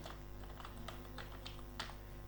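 Typing on a computer keyboard while entering text in Microsoft Word 2007: scattered individual key clicks at an uneven pace over a steady low hum, close and without speech.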